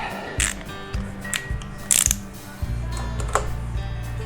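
A ratchet turns a T40 Torx bit on a bolt of a Yamaha Bolt bobber motorcycle, giving short bursts of sharp, close clicking and clattering with brief pauses between strokes.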